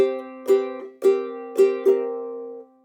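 A guitar plays a short melody, a handful of plucked notes each ringing out clearly before the next, ending on a sustained note.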